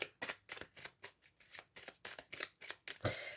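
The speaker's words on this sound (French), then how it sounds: "je ne prends pas les cartes qui tombent, je vais aller directement à la coupe" Oracle cards shuffled and cut by hand, a rapid run of close, crisp riffling snaps and slides with a brief flutter at the end, heard alone.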